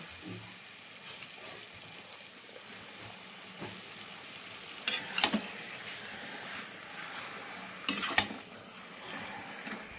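Chicken pieces fry in spiced oil in a pan, a continuous soft sizzle with a few stirring scrapes and two clusters of louder metallic clinks from the spoon against the pan.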